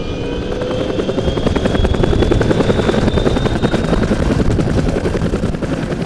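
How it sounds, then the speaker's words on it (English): Vintage piston-engine aircraft droning steadily and loudly, with a rapid chopping pulse and a faint high whine drifting across, no voices. "if you love the raw sound of these piston engines"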